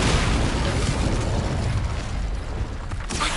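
A fire spell blast in Hogwarts Legacy on PS4, heard as a continuous loud roaring whoosh of flame that fills the whole moment with steady broadband noise and no talk.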